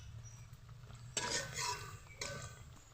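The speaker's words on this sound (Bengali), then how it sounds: "আরও একবার উল্টে পাল্টে আমি ভালো করে মুচমুচে করে ভেজে নিব" Jute leaf fritters frying in hot oil in a pan, with a steady low sizzle and two sharp scrapes and clinks of a utensil turning them, close by.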